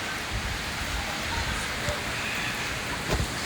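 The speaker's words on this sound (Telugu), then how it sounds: "వర్షం పడుతుంది." Rain falls steadily in a village, a dense, even patter on surfaces nearby with occasional louder drops and faint low rumbles underneath.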